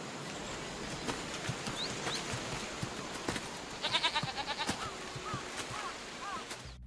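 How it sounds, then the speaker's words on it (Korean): A goat bleats during a scene from a TV drama series. The bleat is a short, moderately clear call a few seconds in, over a steady hiss of background ambience. "염소의 울음소리 또한 강조되고 있는 걸 볼 수 있어"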